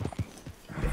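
Hooves of a galloping horse in the open-world western video game Red Dead Redemption 2, a quick series of close, soft thuds with a brief rough snort, the rhythm uneven as the horse drifts through a corner.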